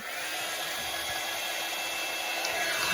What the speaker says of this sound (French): Je prends le heat gun.